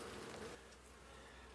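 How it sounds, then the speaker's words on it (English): Honey bees buzzing around an opened hive, a close, continuous drone that is louder at first and then settles to a softer steady hum. "Lots of bees."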